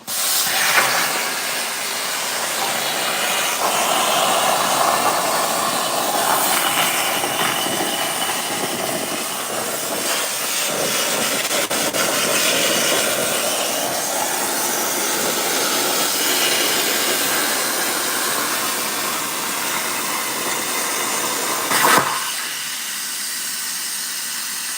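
A Langmuir Cross Fire Pro CNC plasma cutter slices tunnel shifter parts for a 1963 Impala with a loud, steady rushing hiss for over twenty seconds, ending in a brief pop as the arc cuts off.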